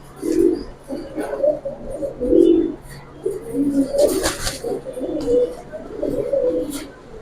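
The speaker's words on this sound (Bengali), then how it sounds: "কালো গলার কবুতর, পাঙ্খি দিয়া করা" Several black-necked pigeons, a giribaz breed pair, coo in repeated soft throaty rolls nearby, the calls overlapping with brief louder flutters and background chatter.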